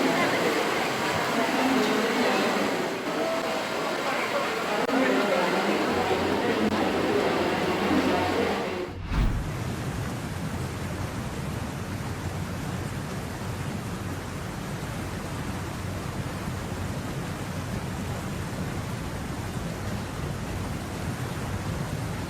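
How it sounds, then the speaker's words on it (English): Heavy rain floods railway tracks in Spain, a dense steady roar of downpour and rushing water that holds through the whole stretch, with a brief thump partway in and a slightly thinner wash afterward. "relentless rain transforms railway tracks into rivers, forcing train services to a complete standstill"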